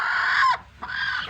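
A hen on a turkey farm in Assam gives two loud, close clucking calls, a longer squawk followed by a shorter one after a brief gap, with no voices.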